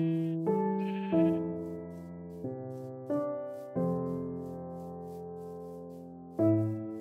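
Sheep in a video game bleat repeatedly, several loud, clear, wavering calls one after another at close range with brief gaps, alone without talk.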